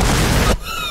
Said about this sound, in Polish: Co tam wybuchło?